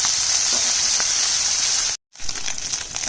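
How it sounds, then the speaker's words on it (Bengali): Fish frying in plenty of very hot oil, a loud, close, continuous hissing sizzle that drops out for a fraction of a second and then resumes just as strongly. "মাছ লাল করে ভাজতে হবে।"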